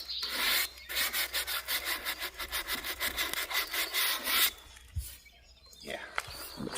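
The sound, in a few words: sanding a worn vintage wooden chair along the grain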